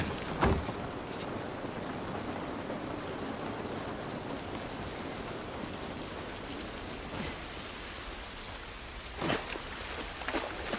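Steady rain falls in a video game scene from The Last of Us Part I, a dense continuous patter with a few louder drops and splashes standing out nearby.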